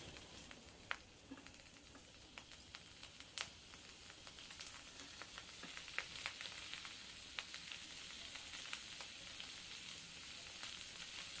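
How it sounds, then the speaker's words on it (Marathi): Semolina-coated pomfret fish fry in a pan over low heat, a quiet, steady sizzle broken by scattered pops and crackles. "आता आपण मासे तळायला घेऊया"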